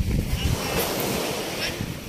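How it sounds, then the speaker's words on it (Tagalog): Ocean waves break on the shore at Pinamantayan beach, a loud surging wash mixed with strong wind buffeting the microphone. "At yung kampas ng alon."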